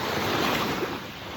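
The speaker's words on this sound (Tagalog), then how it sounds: "Ang lakas ng alon" Strong surf at a beach at high tide, a loud, dense wash of breaking waves with buffeting wind noise, close and continuous.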